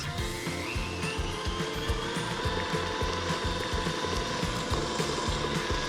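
An electric mixer beats cooled chocolate filling into a pie mixture for a chocolate coconut silk pie, running with a steady rhythmic whir and rattle close up for several seconds with no one talking.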